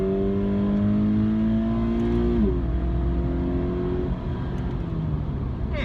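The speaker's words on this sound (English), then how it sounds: "And that blip when you downshift, right? The way it rev matches." A 2019 Toyota 86's engine blips its revs on a downshift, a sharp rise and fall in pitch midway through a steady in-cabin engine drone, close and fairly loud with no talk.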